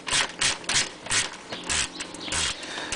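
Ratchet loosening a 9mm nut underneath a Ford Mustang GT during an oil change, a series of quick clicking bursts in an uneven back-and-forth rhythm, close and moderately loud.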